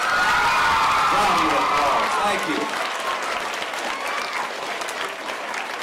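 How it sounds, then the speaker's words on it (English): Elementary school children in a gathering applaud and cheer for their teachers, loud continuous clapping with scattered whoops and children's shouts, while a voice speaks briefly over it. "let's all give them a round of applause"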